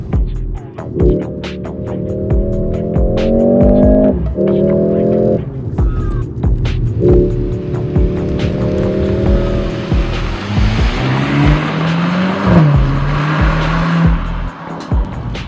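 A 2025 Mercedes-AMG GLC43 Coupe with a 2-liter turbocharged four-cylinder accelerates hard, its engine note climbing through several gears with brief drops at each shift, loud and close over road and wind rush.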